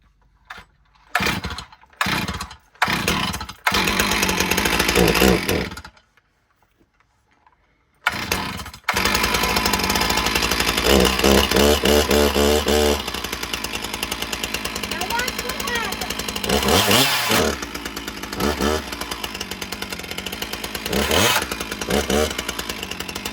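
A chainsaw sputters through several short starting pulls, falls silent briefly, then roars into a loud, sustained run with revving swells in pitch, close by.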